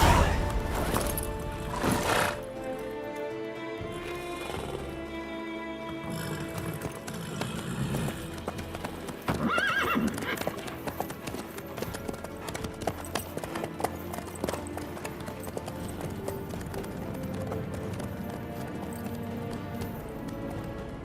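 Horse hooves clip-clop steadily in The Witcher 3: Wild Hunt, a running gait that continues throughout with a neigh near the start, heard over ambient game sound and some background noise.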